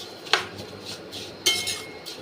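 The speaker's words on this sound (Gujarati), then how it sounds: "થોડી ગોલ્ડન થઈ જાય ત્યાં સુધી આને હલાવતા રહીશું" Vermicelli roasting in a pan is stirred with a utensil, making soft scraping and a couple of sharper metallic clinks against the pan over a low, steady background. The sound is close and fairly quiet.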